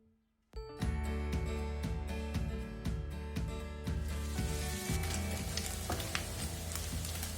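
Bacon sizzles and crackles steadily in a hot pan while rendering its fat for a Brazilian virado de feijão, starting abruptly and holding loud and continuous with a few clinks, no talking.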